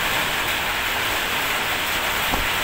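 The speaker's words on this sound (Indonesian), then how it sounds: "mudah-mudahan hujannya ini membawa berkah, jangan sampai hujan membawa musibah" Heavy rain pours down outside a home, a dense, unbroken hiss that stays loud and even throughout, with no voices.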